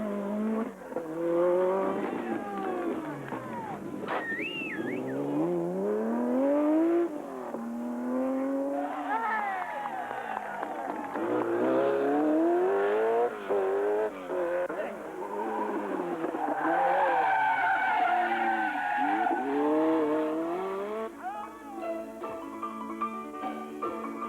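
Renault 5 Turbo race car driven hard, its engine revving up and down in repeated sweeping pulls with tire squeal and skidding, close and loud for the whole stretch.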